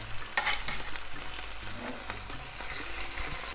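Chopped onion and garlic frying in a little oil in a pan, with a steady close sizzle and crackle, plus brief stirring scrapes throughout.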